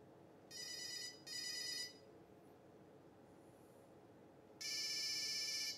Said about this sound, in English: Do you remember going through all the ringtones on old phones?